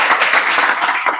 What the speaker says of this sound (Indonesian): itu kasih tepuk tangan untuk Agi.